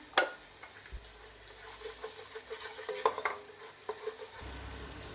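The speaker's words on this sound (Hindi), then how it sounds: "अब इसको हम थोड़ा सा भूनेंगे।" Chicken pieces being stir-fried in a pan for shashlik, with a soft sizzle under a run of close clinks and scrapes of a spoon against the pan, irregular and fairly quiet, no voices.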